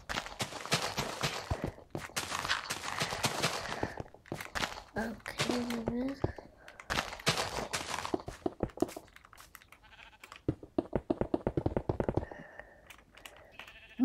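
Sheep bleat in a Minecraft game, short wavering calls in the middle of the stretch, mixed with blocky footstep thuds and a player talking over much of it.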